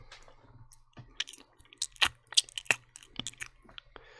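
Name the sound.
chewing sound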